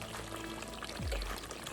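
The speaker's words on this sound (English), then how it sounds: "Now I'm going to go ahead and add my water." Water poured into a pan of lamb curry being cooked into a thin gravy, a steady close pour lasting under two seconds with a gurgling rise near the end.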